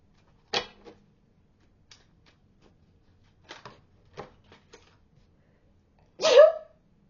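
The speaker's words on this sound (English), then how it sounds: "that was a sneeze" A single sharp sneeze in a quiet room near the end, preceded by a few faint clicks and soft breaths, with the sneeze close and fairly loud.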